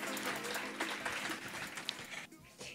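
Audience applause at a French conference as two speakers are invited onto the stage, a moderate continuous patter of clapping that fades out near the end.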